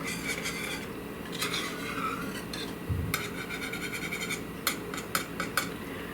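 A spoon scrapes and clinks around a pot of shortcut potato soup with cheddar jack cheese, making soft, close stirring rubs and scrapes broken by several sharper metallic taps.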